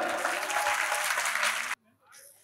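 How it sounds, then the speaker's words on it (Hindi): An audience at a crowded religious gathering breaks into dense, loud applause that runs steadily and then stops abruptly, followed by a short burst of voices. "यदि आनंद आया तो ताली बजा दो।"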